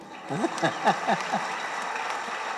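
Brief clapping from an audience at Chellammal college, a short burst under a speaking voice before settling into a steadier patter.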